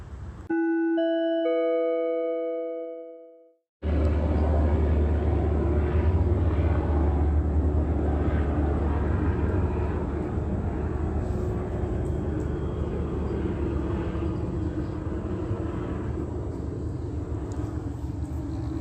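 A bright electronic chime rings out, then a loud, steady low rumble of a helicopter overhead at night drones on without letup.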